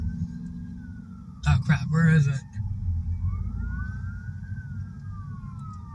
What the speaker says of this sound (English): I wonder where the fire truck is